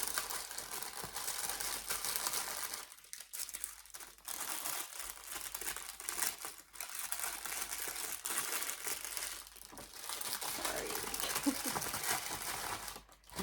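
Tissue paper crinkles and rustles loudly and close by while small cross-stitch items are wrapped, in bursts with short pauses between handling.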